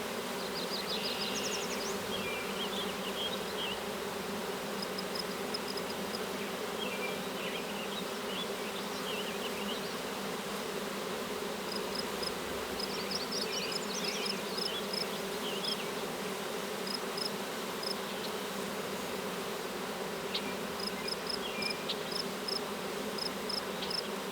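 Honeybees hum steadily around an open hive, a dense continuous drone with individual bees buzzing closer now and then, no voices present.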